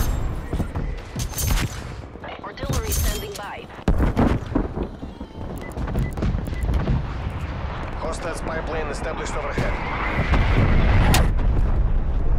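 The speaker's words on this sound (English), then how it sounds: "killed no one with artillery" Heavy artillery barrage in Black Ops Cold War, a rolling series of loud booming blasts and crackling impacts that swell and overlap into a dense, sustained roar, with a voice talking over it.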